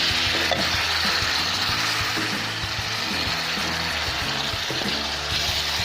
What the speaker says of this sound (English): I am going to stir fry it